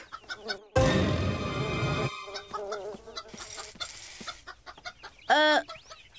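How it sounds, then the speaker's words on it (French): Several hens cluck and squawk close by, with one loud burst of cackling early on and scattered clucks and a sharper call afterward. "Et maintenant, les poules."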